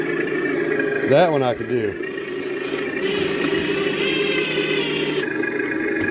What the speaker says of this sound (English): There's a couple of diesel sounds that ain't bad.